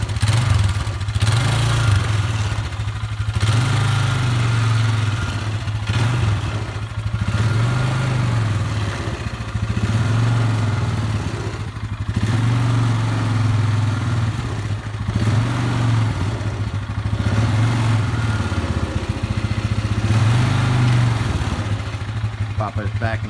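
Polaris Sportsman 500 HO ATV engine running loud and close for the whole stretch, its drone rising and falling in repeated revving surges as the quad drives in two-wheel drive and spins its tires, with a clattering edge.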